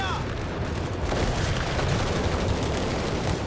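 Airburst artillery in Company of Heroes 3 bursts overhead in a heavy, rumbling barrage, a continuous roll of booms and crackling blasts building loud and close.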